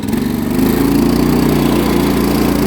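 A small 30 series tractor engine braking while driving through wet snow, a loud, close, steady throbbing putter with a rapid pulsing rhythm and no talking.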